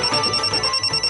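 A phone rings loudly and close, a rapid electronic trill in regular pulses repeating steadily with nothing else over it.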